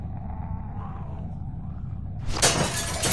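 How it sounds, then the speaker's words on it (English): Window glass smashed with a bat in The Walking Dead video game: a low, steady ambient rumble, then a sudden loud crash of shattering glass that lingers as a bright, crackling spray of falling shards. "Use the bat to shatter that window so you can reach in, okay?"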